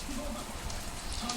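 Rain falling at a NASCAR superspeedway oval race, a steady dense hiss of drops across the whole moment, mixed with a broadcast voice talking over it.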